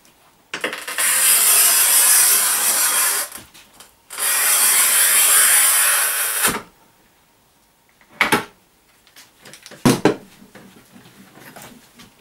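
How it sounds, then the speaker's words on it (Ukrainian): A large-format tile scored with a modernized Vegran tile-cutter carriage fitted with a Sigma 19 mm bearing cutter: two loud, close, rasping scoring passes of a few seconds each, then a pause and a couple of sharp snaps and knocks. "це ми ріжемо модернізованою кареткою, яку модернізував Віталій, Вегран торгова марка"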